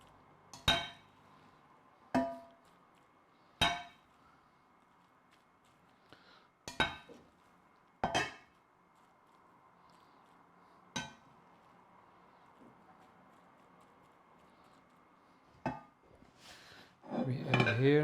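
Sharp metallic clinks of a utensil against a bowl while ingredients go in for Brás-style cod, about eight separate close knocks spaced a second or two apart over quiet kitchen background, with a busier clatter at the end.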